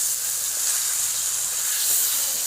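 Chicken for a white creamy karahi fries in a pan with a steady, even hiss and sizzle that continues unbroken, fairly close and with no talking.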